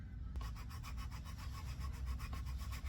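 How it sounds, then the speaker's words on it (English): A fine hand file works a violin part in a workshop, with steady back-and-forth rasping strokes in an even rhythm, close and fairly soft, with no talking. "So now I'm going to move on to a finer file than the last one."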